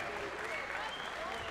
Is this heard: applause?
yes